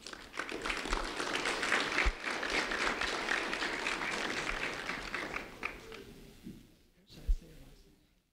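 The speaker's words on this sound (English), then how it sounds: "a round of applause for Pierce Fissler, please." An audience at a sheriff's office recognition event breaks into sustained applause for a seventh-grade student, a dense wash of many hands that tapers off near the end, followed by a brief thump.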